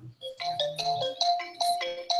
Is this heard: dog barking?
no